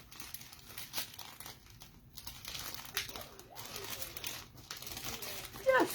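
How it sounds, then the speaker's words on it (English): A plastic bag of flaky artificial snow is torn open by hand, crinkling and rustling in bursts with a few sharper rips, close by, while a voice speaks faintly underneath. "I guess I'll just tear a little hole in it"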